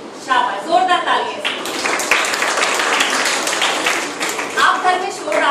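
Children at a traffic safety awareness camp break into loud, dense clapping that runs steadily for several seconds, with a few voices mixed in near the start and end.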